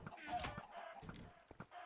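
Minecraft chickens cluck in short, faint bursts, a few choppy clucks spaced irregularly and soft in the mix, with talk nearby.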